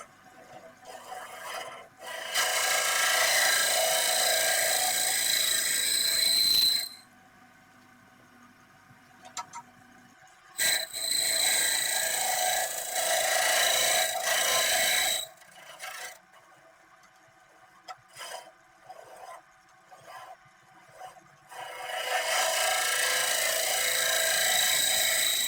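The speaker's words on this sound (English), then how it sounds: "I use a scraper for the final shaping of the inside of the box." A wood scraper rasps against the inside of an oak lidded box spinning on a lathe, in three loud sustained bursts separated by quieter running of the lathe, with no talk.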